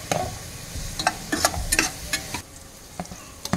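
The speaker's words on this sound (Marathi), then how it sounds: "कांद्याची पेस्ट व्यवस्थित परतून घ्यायची आहे।" Onion paste with chili and whole spice paste sizzles in a pan while a spoon scrapes and stirs it, producing irregular sharp clinks over a steady frying hiss.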